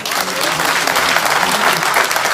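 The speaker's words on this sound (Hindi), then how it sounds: "सर के लिए जोरदार तालियां।" A large crowd at a public government event for contract workers claps loudly for the speaker, a thick, sustained roar of applause with no voices standing out.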